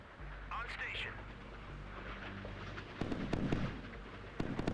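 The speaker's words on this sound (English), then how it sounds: "Missiles going up." Surface-to-air missiles launch from a warship in the naval combat game Sea Power, giving a few sharp bursts and whooshes that build toward the end, with a background of battle noise.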